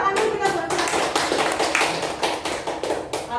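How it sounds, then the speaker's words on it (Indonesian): A group of health cadres in a training session claps hands together, a brisk, fairly close round of overlapping claps that runs unbroken for a few seconds. "Tepuk tangan dulu kita buat."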